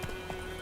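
A couple of soft hoof clops from Roach the horse in The Witcher 3, quiet and brief against a steady game backdrop.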